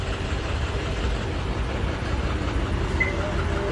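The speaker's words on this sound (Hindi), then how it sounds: "लो भाई ट्रैक्टर को लेके पहुंच गए।" A tractor arrives with its engine giving a steady low rumble and mechanical drone that holds at an even, moderate level, with no speech over it.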